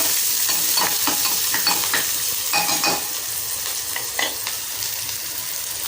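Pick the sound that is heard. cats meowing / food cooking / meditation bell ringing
food cooking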